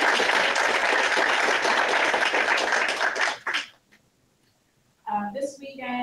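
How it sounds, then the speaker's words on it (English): Audience applause at the opening ceremony of a women's website build event, a dense burst of many clapping hands that cuts off abruptly midway, followed by a short silence before a voice resumes speaking. "Please give them a round of applause."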